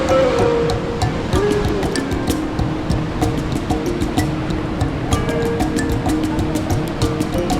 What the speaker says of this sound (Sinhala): ඔන්න ඇල්ල උඩ ඉන්නේ